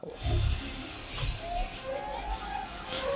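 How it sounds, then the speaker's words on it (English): Sci-fi TV sound effect of a drill boring into a man's brain in the Marvel series Ironheart, a faint whirring mechanical whine with low thuds and rising tones under a soft background score. "it's drilling into his brain"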